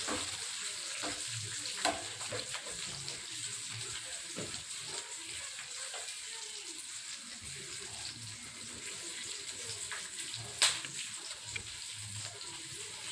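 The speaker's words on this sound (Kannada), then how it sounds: "ಈರುಳ್ಳಿ ಸ್ವಲ್ಪ ಕಲರ್ ಚೇಂಜ್ ಆಗಬೇಕು ಬೇಯ್ತಾ ಇದೆ" Onions frying in a pan for an eggplant curry, a steady soft sizzle with occasional stirring clinks and scrapes, close and continuous at low volume.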